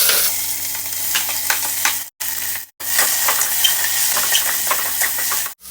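Onions frying in oil in a pressure cooker with ginger garlic paste, a continuous close sizzle broken by spoon stirring and scraping, with two short gaps.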